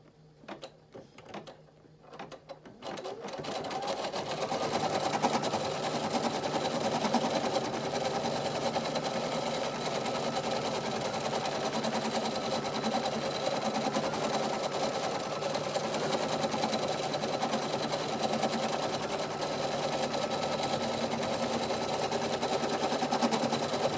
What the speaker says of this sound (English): Now it's gonna do the tack down stitch for the face.